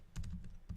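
Typing on a computer keyboard while entering a math problem, a quick burst of four or five close, crisp key clicks in fast succession, alone with no talking.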